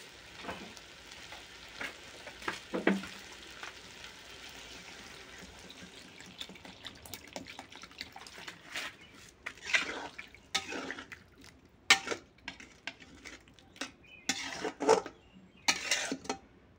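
Water goes into a pan of potato, pumpkin and eggplant cooking with mustard. It sizzles and bubbles steadily, and utensils clatter and scrape close by in irregular bursts, with no talking.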